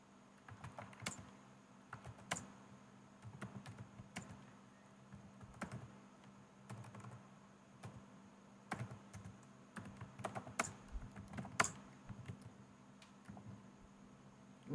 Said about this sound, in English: for some reason I'm typing all caps